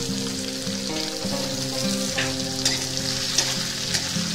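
Onions frying in oil in a pan while cooking poha, a steady close sizzle with light stirring scrapes throughout, no talking.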